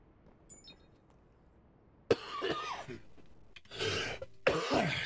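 A person with a sore throat coughs repeatedly during game play, with three loud, harsh bursts close to the mic against a quiet background.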